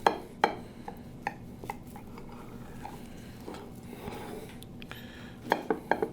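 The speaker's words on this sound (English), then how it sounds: "Let's cut our cornbread, see what it looks like." A knife cuts through a pan of Mexican cornbread with jalapeno, making several crisp metallic clicks and scrapes, clustered at the start and again near the end, over a quiet kitchen background.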